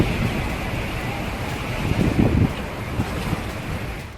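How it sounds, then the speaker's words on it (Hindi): Cyclone storm winds roar over high sea waves in a loud, continuous broadband rush that swells briefly midway and never lets up. "तेज रफ्तार से सनसनाती हवाएं मानो सब कुछ उड़ाने पर आमादा हैं।"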